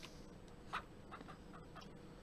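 Chickens in the farming video game Ranch Simulator give a few faint, scattered clucks against a quiet background hum, sparse and brief with no talking.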